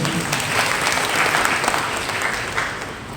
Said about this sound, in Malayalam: ഇതൊന്ന് കൈയടിച്ച് ഇവരെ കൈയടിച്ച്